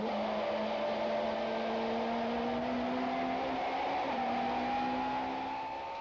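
Super Touring race cars stream through the AA kink at Kyalami, their engines a steady, loud whine that climbs and shifts in pitch with no talking, then fades slightly at the end.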